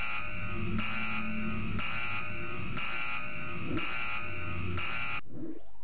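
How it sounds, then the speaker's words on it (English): A panic alarm in the video game Tesla Effect: A Tex Murphy Adventure buzzes in loud, even pulses about once per second for five seconds, then cuts off abruptly into near silence. "no need for the panic alarm"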